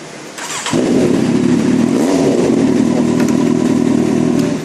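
A Kawasaki Z800 motorcycle engine starts after an alarm unlock: a short starter crank catches into a loud, steady, close idle with a brief blip of revs.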